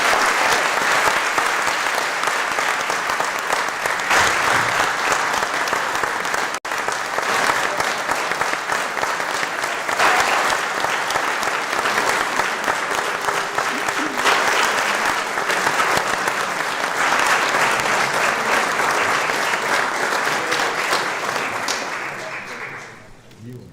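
A Blount County Board of Commissioners meeting room applauds the graduating class of 2026, steady sustained clapping from a large crowd lasting over twenty seconds before tapering off, with some voices mixed in.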